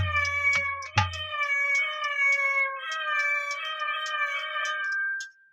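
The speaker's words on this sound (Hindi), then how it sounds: "बिलैया के बच्चे म्याऊं म्याऊं म्याऊं म्याऊं करके भागने लगे" Kittens meow in a rapid string of high, tonal cries, close and clear, with a short low thump near the start and no talking.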